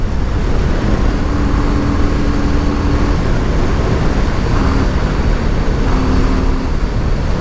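A 1988 Yamaha Virago 250 motorcycle rides along with a loud, steady engine drone and broadband wind rush, holding a constant level throughout with faint tonal hums rising now and then.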